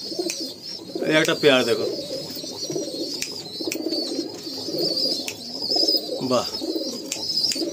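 Pigeons coo steadily through a loft holding Andhra breeds such as lalshira, kalshira and phulshira, the birds close and fairly loud while someone speaks briefly over them.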